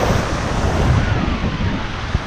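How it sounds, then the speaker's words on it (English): Intense surf washing in off a Fort Lauderdale beach, a steady broad roar of breaking water with wind buffeting the microphone throughout, close and loud with no talking. "You see, these waves are intense,"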